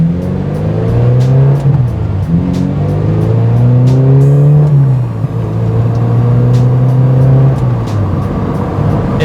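A 20-year-old early NC Mazda Miata accelerating hard, engine note climbing steadily through the gears with loud, close revving and brief shift dips, no talk.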